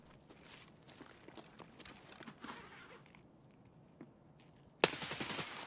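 Automatic gunfire in Escape from Tarkov, with scattered shots and rattling bursts through the first three seconds, a quieter stretch, then a loud, dense burst close by near the end. Nobody speaks.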